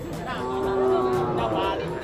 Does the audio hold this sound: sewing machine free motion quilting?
no